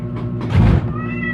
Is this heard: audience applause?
no